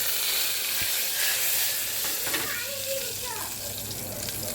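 Curry leaves hitting hot oil in a tempering that already holds popped mustard seeds and asafoetida give a steady, loud sizzling hiss throughout, with faint voices in the background.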